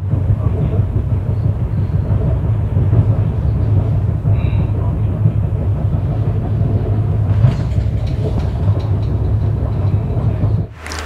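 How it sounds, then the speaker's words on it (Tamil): The Kanniyakumari–Chennai Egmore Superfast Express rolls across the Thamirabarani river bridge, heard from on board as a loud, continuous low rumble with faint clatter, easing slightly near the end. "நம்ம இப்போ ட்ரெயின் கடந்து போகிறது தாமிரபரணி ஆறு"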